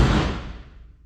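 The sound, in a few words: V8 Ford Ranger door closing without door seals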